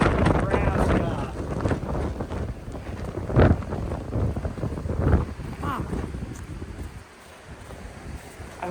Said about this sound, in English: All of a sudden, good grief, blowing, swirling snow to about no visibility.